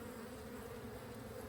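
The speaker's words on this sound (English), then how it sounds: "The bees are the experts." A steady, low droning hum of honeybees buzzing close by, continuous and even throughout with no voices.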